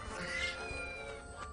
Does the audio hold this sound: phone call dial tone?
no